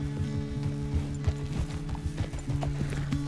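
Horse hooves in Red Dead Redemption 2 clop in a quick, steady rhythm, close and clear, with a brief neigh mixed in over a low sustained musical drone.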